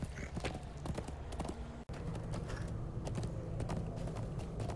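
Horse hooves galloping in the online game Lord of the Rings Online, a steady rapid clip-clop of hoofbeats that runs through the whole stretch with one brief dropout midway, close and fairly loud, with no talk over it.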